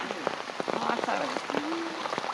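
Rain falling steadily on a flooded village, a continuous hiss of drops on wet surfaces, with someone talking close over it throughout.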